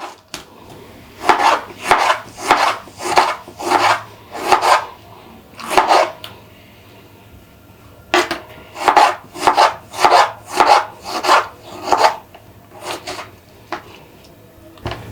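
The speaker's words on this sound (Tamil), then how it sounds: "தக்காளி பழத்தில் 1 நறுக்கிக்கலாம்." Rapid knife chops through tomatoes on a board in two bursts with a short pause between, each stroke a crisp thud, close and clear with no talking.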